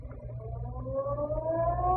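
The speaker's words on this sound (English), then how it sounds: "just as the ferry building siren was announcing 8 o'clock to downtown San Francisco" Ferry building siren sounding over downtown San Francisco, a radio drama sound effect: a steady rising wail that climbs gradually in pitch and swells louder over two seconds, heard alone without speech.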